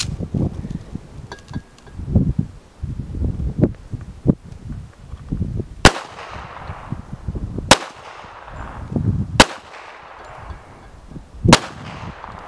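A 1918-made .45 ACP pistol fires four sharp, loud reloaded rounds, spaced a couple of seconds apart, each crack followed by a short decaying echo, over outdoor rustling and handling noise between shots.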